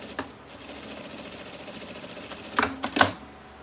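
A sewing machine runs steadily as it stitches a second seam along the edge of a zipper on a small insulated fabric bag, humming continuously with a few louder clunks near the end and no talking.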